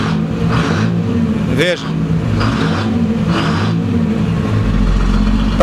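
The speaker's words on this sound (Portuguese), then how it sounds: "Na descarga, há a maneira que você vai acelerando, a tampinha abre para que o ar saia." An old truck engine, among a vintage collection of FNM and Ford trucks, revs loudly and steadily while the exhaust flap lifts to let air out, with someone speaking briefly over the rumble.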